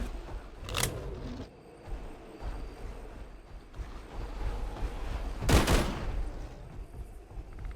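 Gunfire in the Bigfoot game, two sharp shots a few seconds apart rising over a low rumbling outdoor background.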